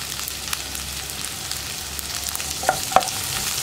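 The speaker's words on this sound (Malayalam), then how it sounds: "ഇനി സവോള ഒന്ന് നന്നായിട്ട് വഴറ്റിയെടുക്കണം." Onions, green chillies and curry leaves sauté in a hot pan for a green peas curry, giving a steady close sizzle with a couple of sharp utensil taps near the end, no talking.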